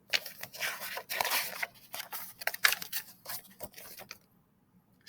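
A knife slicing a ripe red strawberry in two, heard as a run of soft, close crunchy and scraping cuts in uneven bursts before falling quiet near the end.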